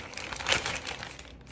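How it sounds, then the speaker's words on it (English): An empty plastic bag crinkles and crackles close up for a second and a half, a continuous rustle that swells to a brief louder crunch midway before settling. "This is an empty plastic bag."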